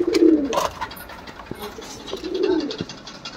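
Lahori pigeons coo in a pigeon shop in Mumbai, two soft, rolling coos close by, with light rustling and flutters between them.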